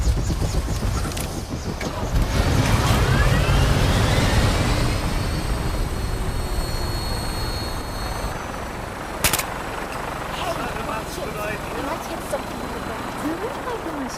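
A vertibird aircraft landing in the Fallout 4 video game, a loud rotor whir and engine roar that swells then eases into a steady drone, with a sharp clank midway and voices talking.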